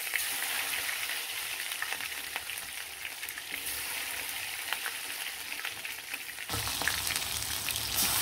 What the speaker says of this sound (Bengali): এখন এই গরম তেলে কিন্তু আমি মাংসগুলা খুব সুন্দরভাবে ভেজে নিব।